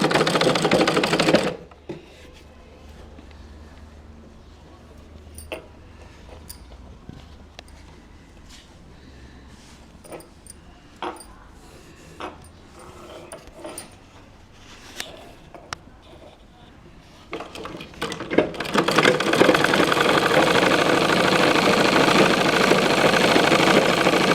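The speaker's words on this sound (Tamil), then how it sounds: "இதை மிஷினில் வச்சு நம்ம ஒரு பக்கம் ஓரமாக நம்ம ஃபோல்டு பண்ணதை ஜாயின் பண்ணுற மாதிரி ஒரு பக்கம் ஓரமாக அடிச்சுக்கோங்க" An electric sewing machine stitches blouse fabric for a designer blouse, running loud and steady at the start and again near the end, with a quieter stretch of scattered clicks and handling noises in between.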